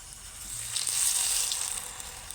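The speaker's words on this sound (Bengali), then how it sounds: "তো এবার আমি উল্টে পাল্টে ভেজে নিচ্ছি।" Ripe jackfruit fritters sizzle in hot oil, a steady, close bright hiss that swells slightly midway and then settles, with no talking.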